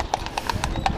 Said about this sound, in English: there's all these horses here and stuff